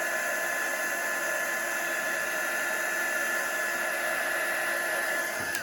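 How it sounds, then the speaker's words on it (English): Heat gun melting embossing powder on acetate for cardmaking, a loud continuous blowing whoosh held steady throughout with no voices. "we're going to hold that heat gun still. As soon as that embossing powder melts and changes, we're going to move the heat gun over the image"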